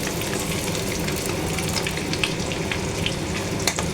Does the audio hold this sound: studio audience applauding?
no